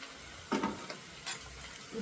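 Finely chopped ridge gourd pieces stir-fried in a pan for sambar, giving a few short scraping, sizzling stirs spaced apart, fairly faint, with no voices.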